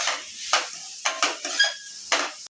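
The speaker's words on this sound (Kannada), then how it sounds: "ಈಗ ಟೊಮೊಟೊ ಹಾಕೋಣ" Chopped tomatoes added to a hot frying pan for a taro-root stir-fry, with bursts of sizzling and a spoon scraping and stirring in short repeated strokes, close up with no talking.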